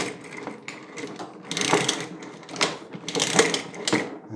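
A Holzmann WSR 20 Pro retractable hose reel as its hose is pulled out, giving a close, irregular ratcheting and clicking mechanism with bursts of rattling, no talking.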